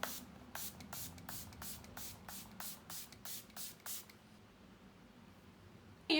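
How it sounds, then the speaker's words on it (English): Pixie setting spray is pumped onto a face in about a dozen quick, evenly spaced misting hisses, close and soft, then quiet. "I'm gonna put some of the Pixie setting spray on it"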